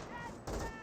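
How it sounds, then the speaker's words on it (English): Small arms fire from a US Rifleman squad in the World War II strategy game Company of Heroes, heard as a dense, continuous crackle of gunfire with bursts swelling louder partway through the short stretch. "we're seeing a bit of small arms fire from the Rifleman squad."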